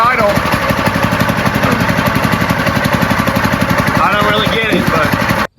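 A Harbor Freight small engine swapped into a vintage snowmobile idles with a steady, rapid mechanical putter, close and loud, while a person talks over it before it abruptly cuts out at the end.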